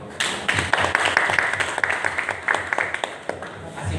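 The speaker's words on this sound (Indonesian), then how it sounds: "Tepuk tangannya mana?" An audience applauds at a gathering, with sharp individual claps scattered through a few seconds of moderately loud, uneven clapping over a faint background of voices.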